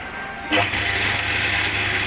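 A wrench turns the two 17 mm nuts that tension the belt on a Marathon 10-inch aluminium-cutting saw table, a sudden close mechanical clunk followed by steady whirring and rattling machine noise.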